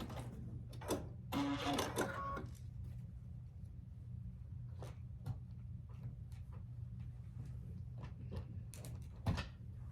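A home sewing machine stitches down a quilt block row in short bursts, with a rattling run near the start and scattered clicks and taps of fabric handling, fairly quiet and without speech.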